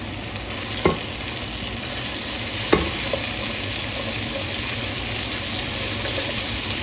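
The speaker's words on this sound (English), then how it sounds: "we're going to cook the onion for about 4 minutes with our beef tips." Big onion pieces frying with beef tips in a pot, a loud, steady sizzle and hiss throughout, punctuated by two sharp knocks of a utensil against the pan early on.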